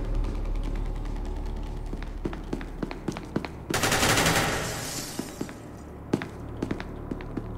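Machine gun fire in a video game, a dense burst of rapid shots around the middle among scattered sharp clicks and mechanical clatter before and after.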